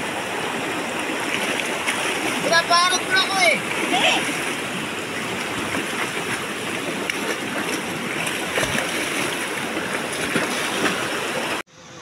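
Loud, steady rushing water fills the whole stretch, with splashing, while people talk briefly over it.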